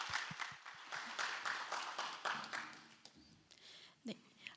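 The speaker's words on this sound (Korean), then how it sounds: "박수로 맞아보겠습니다." Applause at a Korean results-presentation event, welcoming a presenter to the stage. Scattered clapping at first, then a fuller round that fades out, with a few isolated claps and some background murmur near the end.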